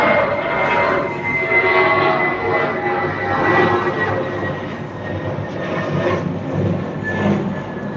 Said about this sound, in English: I'll let this plane go past him